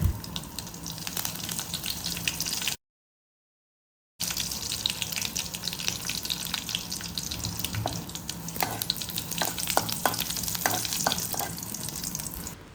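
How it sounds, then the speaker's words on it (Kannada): Curry leaves crackle and fry in hot oil with browned garlic and mustard seeds, a dense, loud, close sizzle with spoon-stirring clicks throughout and a brief full dropout partway, no voices. "ಕರಿ ಲೀವ್ಸ್ ಸ್ವಲ್ಪ ಚೆನ್ನಾಗಿ ಫ್ರೈ ಆಗಬೇಕು"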